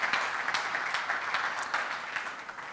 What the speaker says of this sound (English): So my big round of applause to them.